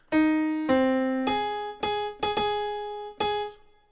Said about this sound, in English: Just have a listen to it on the piano